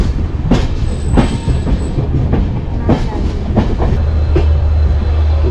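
A train at a railway station platform, wheels clattering with sharp clanks and a thin brief squeal, then a steady low hum, heard close and loud.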